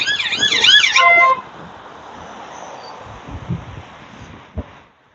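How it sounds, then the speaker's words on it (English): A police van's wailing siren in Blackpool sweeps up and down loudly for about a second, then cuts off, leaving low traffic rumble and a brief thump. "I can hear sirens again"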